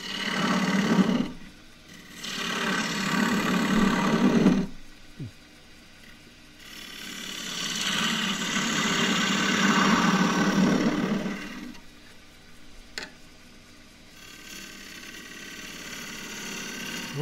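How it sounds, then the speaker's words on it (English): A wood lathe spins an eggcup blank as a 3/8 deep fluted bowl gouge cuts inside it, producing alternating bursts of rough scraping and hollow whirring between quieter pauses with the lathe running, close by. "So I need a little deep fluted gouge to just get that out."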